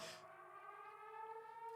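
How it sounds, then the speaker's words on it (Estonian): A siren wails faintly at a steady, droning pitch, heard from a distance and held for under two seconds, with no voices over it. "see on see sireen"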